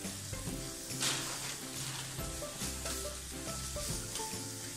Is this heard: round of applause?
no